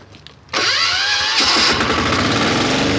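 WEIMA heavy walk-behind tractor engine, with the decompressor closed, starts abruptly after a quiet moment, then settles into a loud, close, steady chugging idle with a brief rise in revs.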